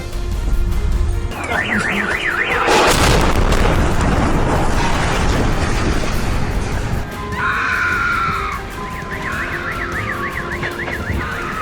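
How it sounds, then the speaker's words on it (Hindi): A Russian rocket strike on Volodymyrska Street in Kyiv sets off a loud, sudden explosion with a long rumbling tail, while warbling car alarms and sirens wail before and after the blast. "रूस ने वोलोडिमिरिस्का पर रॉकेट हमला किया।"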